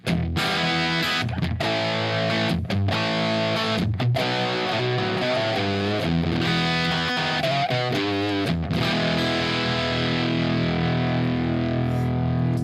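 Electric guitar through a Zeo clean booster pedal, played with a clean, slightly pushed tone, chords and single notes ringing out continuously at steady loudness with no voices.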